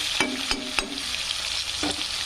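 Tomatoes soften in a hot pan for methi bhaji. A constant close sizzle runs under a few distinct spoon scrapes and taps as the mixture is stirred, with no talk.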